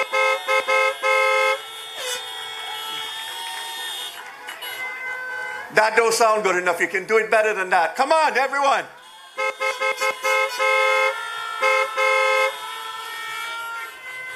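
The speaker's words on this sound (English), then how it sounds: "Let's hear some horns." Many car horns honking together at an outdoor political rally, a dense, sustained chorus of overlapping blasts and toots while someone talks through an amplified voice over them.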